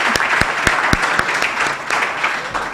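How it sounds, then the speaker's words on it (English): An event audience applauds the teams that presented at an Invent for the Planet competition. Steady, close clapping carries on throughout, with some sharper individual claps standing out. "a round of applause for all the teams that have presented today."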